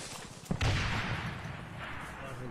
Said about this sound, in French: Ah, j'ai entendu tirer.